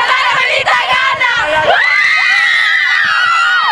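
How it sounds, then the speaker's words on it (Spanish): Girls' school basketball team screaming and cheering after a close victory at an intercollegiate championship in Ipiales, Nariño, a loud, sustained burst of many high young voices shrieking together, very near and continuous. "Fue el grito de emoción de las jóvenes jugadoras de la institución ipialeña"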